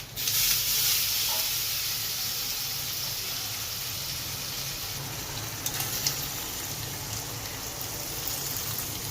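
Coriander seeds, cumin and ground spice mix sizzle in a hot pan, a continuous close frying hiss with faint crackles running throughout, no voices.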